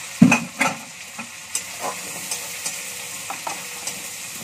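Chole masala with turmeric frying in a pan, a soft steady sizzle broken by several sharp stirring clinks and scrapes spaced through the stretch.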